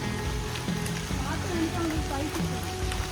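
Heavy rain falls on a muddy forest trail at Keppel Hill in Singapore, a constant patter and wash under close conversation.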